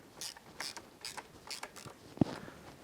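A hand ratchet snugs down bolts while a crashed Yamaha YZ450F motorcycle is reassembled, a series of quiet, close, quick ratcheting clicks in short bursts, ending in one sharp knock.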